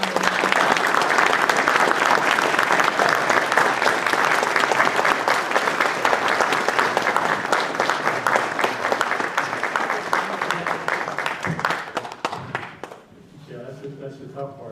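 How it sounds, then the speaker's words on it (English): Audience applause for General Lyons at a 2019 Veterans Day ceremony in Belleville, Illinois: dense, steady clapping from a large crowd for about twelve seconds, then tapering off into quieter room sound. "Everyone, please, a round of applause for General Lyons."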